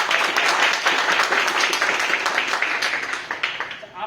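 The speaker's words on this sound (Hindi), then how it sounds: "चलिए थोड़ा ताली बजा दीजिए" An audience at a talk for exam candidates breaks into applause, a continuous wash of many hands clapping at moderate level that holds steady and then fades slightly toward the end.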